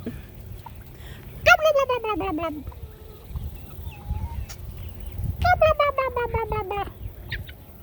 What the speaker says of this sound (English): We're getting a couple that'll gobble a little bit.